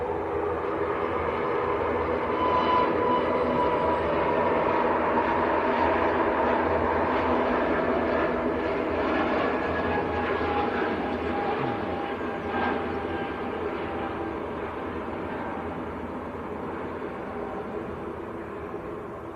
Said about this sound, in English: Lufthansa on the roll. Lufthansa to Munich.